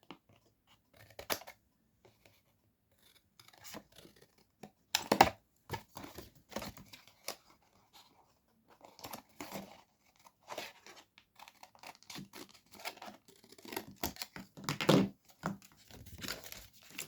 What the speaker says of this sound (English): Do this bit with my scissors.